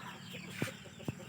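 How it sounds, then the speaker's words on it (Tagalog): Heritage Plymouth Rock chickens on a farm give two brief, low clucks about half a second apart over a steady background hum. "Show type na manok. Yan siya is Plymouth Rock."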